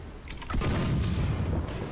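A tank gun fires in War Thunder, a single heavy boom with a rumbling low-end tail that fills the remaining two seconds, loud and with no talk over it.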